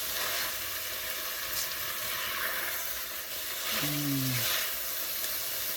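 Peppers sizzle steadily in a pot while being stirred for African peanut soup, a continuous close frying hiss with brief scraping touches and no talk.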